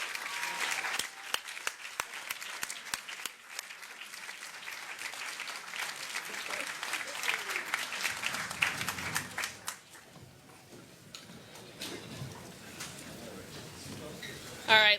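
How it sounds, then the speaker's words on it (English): Sustained audience applause with dense clapping and some cheering fills a news conference following the Mars Curiosity rover landing, loud and steady for about eight seconds before thinning into scattered claps and murmured talk. "let's give them one more round of applause now that we've got them all up here"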